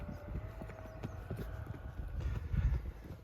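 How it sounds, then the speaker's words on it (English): A small donkey's hooves clip-clop at a steady walking rhythm while it is ridden on the West Bank of Luxor, Egypt. The footsteps are soft and close and grow slightly louder toward the end, with no talking. "one small donkey can carry a huge pile of sugar cane and two men on top of that and walk up the hill"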